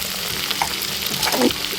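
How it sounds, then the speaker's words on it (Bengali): Cut potatoes added to a pan with fried onions and prawns, frying with a strong close sizzle and occasional stirring knocks and scrapes. "কেটে রাখা আলুগুলো দিয়ে"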